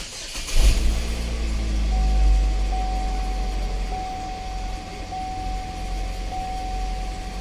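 A 2015 Chevrolet Equinox with a 2.4-litre engine and a secondary air pump fault cold-starts with a brief crank and catch, then settles into a steady close idle under a faint high whine.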